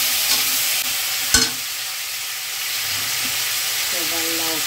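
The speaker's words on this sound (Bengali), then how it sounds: "শুকনো লঙ্কা ফোড়ন দিয়েছি, জিরে ফোড়ন দিচ্ছি, চিংড়ি মাছটা ছেড়ে দিচ্ছি" Prawns drop into hot mustard oil with dried chilli and cumin tempering in a wok, a steady loud sizzle with a sharp clatter and faint stirring, while a voice speaks briefly over it.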